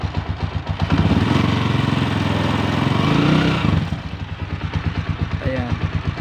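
A motorcycle engine close by is revved up, its loud running swelling to a higher, rougher roar for a couple of seconds before falling back to a pulsing idle, with someone speaking at moments.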